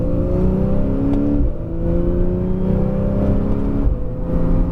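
A Porsche 911 Carrera S on a race circuit gets back on the throttle, its engine note climbing steadily in pitch, dropping once as it shifts, then climbing again. The engine is loud and close, with no one talking.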